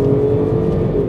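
A MINI Cooper F56 with the 1.5 engine accelerating hard on kickdown, its engine note droning steadily and loud, close up, with a strong low rumble and a sustained tonal hum and no break.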